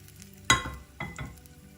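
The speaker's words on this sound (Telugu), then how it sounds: "ఈ వేయించుకున్న తాలింపుని పచ్చడిలో వేసి కలుపుకోవాలి" A hot fried tempering of curry leaves is poured into curry leaf chutney and stirred, giving a sharp burst of sizzle followed by a couple of softer spoon scrapes and clinks against the bowl, close and alone.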